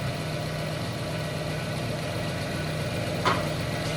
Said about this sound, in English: So the car's still running.